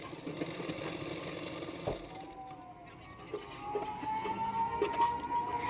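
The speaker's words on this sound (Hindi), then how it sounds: "पीछे की तरफ फोल्ड करके मैं सिलाई कर लूँगी।" Close, low hum of a sewing machine running steadily as it stitches the folded back piece of a boat neck blouse, with a faint, continuous whir and no talking.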